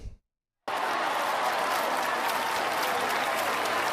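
After a short silence, loud continuous applause bursts in on a talk show, a dense wash of clapping that holds steady to the end.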